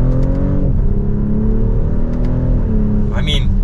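A 2024 BMW X5 xDrive40i accelerates hard in sport plus mode, its engine note climbing loudly through the gears with a shift near the end as someone talks over it.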